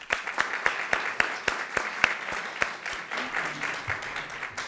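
An audience at a university research talk competition applauds, with sharp distinct claps at first that settle into a steady, moderately loud patter of clapping.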